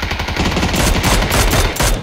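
Rapid bursts of automatic gunfire in the battle royale shooter PUBG, loud and close, rattling in quick successive volleys with brief gaps.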